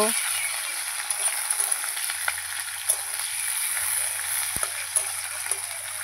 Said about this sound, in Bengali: কেটে রেখেছিলাম সেগুলো দিলাম, পাঁচফোড়ন দিলাম, এখন এগুলো নাড়াচাড়া করে নেব।